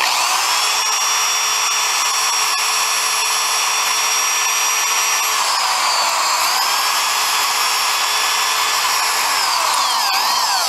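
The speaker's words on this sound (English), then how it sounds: "it may drill through the aluminum very easy, but once you hit the stainless, it's a different story" A drill bores a pilot hole through the aluminum into the stainless steel of an Alpha 1 Gen 2 bearing carrier, whining loud and continuous with a shifting pitch that dips briefly near the end.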